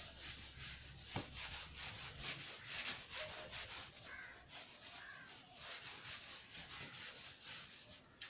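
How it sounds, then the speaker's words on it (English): Writing is rubbed off a board with steady back-and-forth scrubbing strokes, a continuous close rasp with a thin, high hiss running through it. "I'll rub this out."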